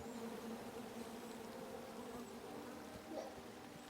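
Bees buzz steadily in the King's Quest video game, a continuous close insect drone lasting the whole stretch with no talking over it.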